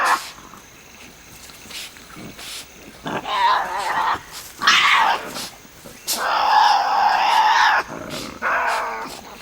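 Tasmanian devils growl and screech in loud, harsh bursts that come close together, alternating with short gaps, with no talking.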